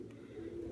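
Pigeons cooing nearby, a low soft sustained coo that swells slightly toward the end, heard alone without voices.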